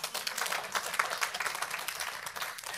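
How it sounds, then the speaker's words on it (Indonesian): A church congregation claps through a sermon, a steady wash of applause from many hands in a large room, moderately loud and continuous with no speech over it. "kalau tepuk tangan jangan satu aja saudara."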